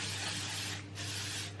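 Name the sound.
heat protectant hair spray being sprayed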